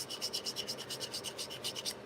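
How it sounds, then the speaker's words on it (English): A flat sanding block rubs back and forth over a paper model, giving a steady series of soft, rhythmic rasping strokes heard close up with no talking. "That's where these sanding blocks come in so darn handy."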